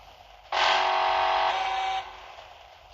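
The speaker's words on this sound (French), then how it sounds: "Ah mais c'est une alarme." A loud, steady electronic alarm tone in a video game starts abruptly, holds for about a second and a half, then steps down in level before cutting off, with no talking over it.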